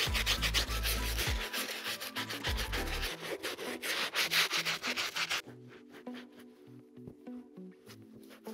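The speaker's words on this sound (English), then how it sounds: "a stiff bristle brush to get the midsole and the sole back to brand new" A stiff bristle brush scrubs the midsole and sole of a Union Jordan 1 sneaker in rapid back-and-forth strokes. The rasping is loud at first and grows quieter and wetter toward the end.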